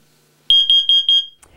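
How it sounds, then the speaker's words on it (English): A carbon monoxide detector alarm sounds loud and close: a shrill high-pitched pulsing beep, four rapid pulses over a steady tone, then it stops abruptly. "When the carbon monoxide detector goes off, there's a couple things to be thinking about."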